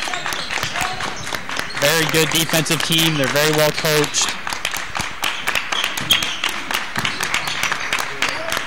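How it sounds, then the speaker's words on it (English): Crowd clapping in a high school boys' basketball gym, scattered sharp claps running steadily beneath a commentator's continuous play-by-play talk. "and there's the clapping"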